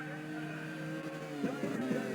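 Racing cars in a Sepang Grand Prix video game drive past with a steady, moderately loud engine drone that rises into a brief buzzing pass-by toward the end, with no talk.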